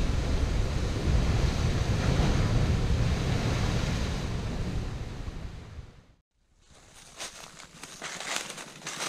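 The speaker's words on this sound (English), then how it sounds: "Oh, the water is coming." Ocean waves surge against the coastal cliffs of the Funakoshi Peninsula at Okama Cliff in Yamada. A loud, rushing roar with wind buffeting the microphone fades to a brief lull, then the surf builds again.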